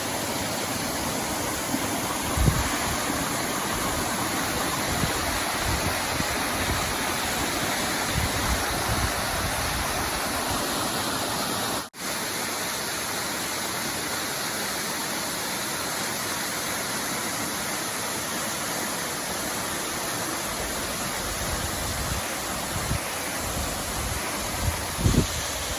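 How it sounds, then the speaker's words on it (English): Waterfall on the Appalachian Trail, seen from a ledge just below it: a steady, loud broadband rush of falling water that holds even for the whole stretch, with one brief dip partway through and no voices. "All right, there's your waterfall."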